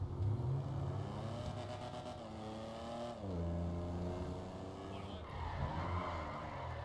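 A car in GTA V, playing with a real-life mod, revs and skids with squealing tires, its engine pitch rising and falling in sweeping slides at close range, loud and continuous with no talk.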